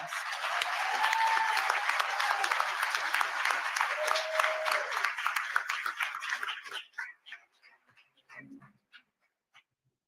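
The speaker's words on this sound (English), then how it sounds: "Give yourselves a round of applause" A crowd at a community emergency meeting in Dolton claps loudly and steadily for several seconds, then the applause thins out into scattered last claps and a few murmurs.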